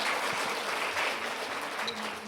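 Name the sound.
hand clapping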